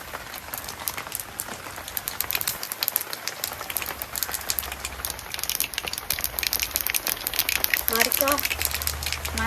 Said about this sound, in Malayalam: ഈ കടുക് കൊട്ടിയിട്ട് കുറച്ച് ഉലുവയും കൂടി ഇട്ടിട്ട് പൊട്ടിക്കാം